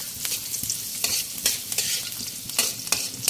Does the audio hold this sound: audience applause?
no